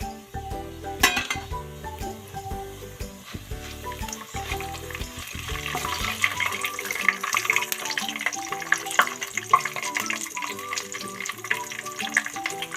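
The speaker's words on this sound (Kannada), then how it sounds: "ಎಣ್ಣೆ ಬಿಸಿಯಾಗಿದೆ ಫ್ರೆಂಡ್ಸ್ ಗರಂ ಮಸಾಲೆ ಐಟಮ್ ಹಾಕ್ತಾ ಇದ್ದೀನಿ" Whole garam masala spices sizzle and fry in hot oil for a restaurant-style pulao, a steady crackling hiss with bright pops, rising louder and busier after the first few seconds, close and with no talk.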